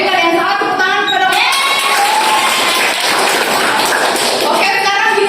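Children in a microteaching classroom clap and cheer together, a loud burst of mixed clapping and shouting that swells after a chanted voice and gives way to children's voices again.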